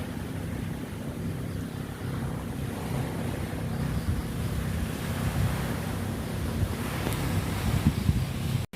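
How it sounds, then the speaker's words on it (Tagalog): Strong cold wind and sea waves on the coast at Atimonan, Quezon, a continuous gusty rush with low surf rumble that swells slightly louder toward the end, no talking. "Lakas ng hangin at malamig ang hangin."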